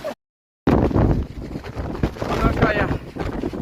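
Strong wind buffets the microphone on the Velliangiri mountain trail. It makes a loud, continuous, roaring rumble after a brief silent gap, with voices partly buried beneath it.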